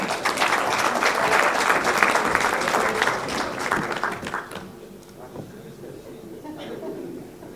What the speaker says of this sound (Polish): Proszę Państwa, dajmy brawa